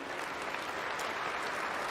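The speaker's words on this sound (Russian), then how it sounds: "И там 12-е аплодисменты" Applause from a large audience during Putin's 2024 televised address, a continuous even wash of clapping heard at moderate level for about two seconds.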